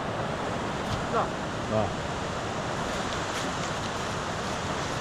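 A rising river in dense jungle rainforest gives a steady, full broadband rush of flowing water that fills the whole clip, with a brief spoken exclamation near the start.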